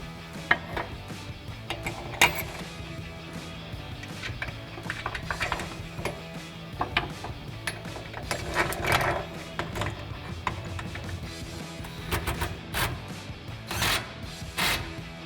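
A ratchet tightens the clamps of an aluminum retractable locking tonneau cover on a 2014-or-later Sierra 1500 pickup bed, giving quick close clicks and metallic rattles in uneven bursts against faint background noise.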